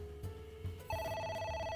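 In the video game AI: The Somnium Files, a telephone starts ringing with a bright electronic trill after a few soft thuds and background tones, steady and moderately loud with no speech over it.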